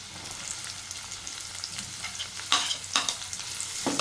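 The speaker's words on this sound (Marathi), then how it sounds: "कांदा पण चांगला मऊ करून घेते तेलासोबत" Onion frying in oil in a pan, a steady close sizzle with scattered crackles and a few sharp stirring scrapes toward the end, no voices.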